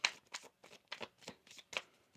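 Tarot cards being shuffled by hand in a series of crisp riffling bursts, about eight quick flutters in a loose rhythm, close and clear with no voices.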